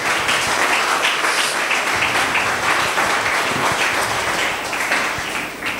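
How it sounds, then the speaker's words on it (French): A church congregation applauding, dense sustained clapping from many hands filling the room at a steady loud level throughout. "On peut acclamer pour la parole."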